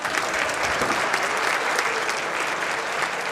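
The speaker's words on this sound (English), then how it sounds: "Give old Goober a round of applause." An audience at a police foundation awards event gives Goober a round of applause, a dense, even wash of clapping that holds steady for a few seconds.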